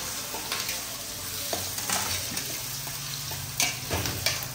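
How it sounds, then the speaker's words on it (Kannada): Potatoes and chilies frying in a pan while being stirred, a steady close sizzle broken by scraping stirs and light clicking knocks from the spoon against the pan. "ಆಲೂಗಡ್ಡೆ ಫ್ರೈ ಆಗೋವರೆಗೂ ಹಿಂಗೆಲ್ಲ ಆಡಿಸ್ತಿರ್ಬೇಕು"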